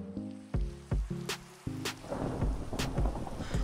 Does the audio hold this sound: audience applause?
no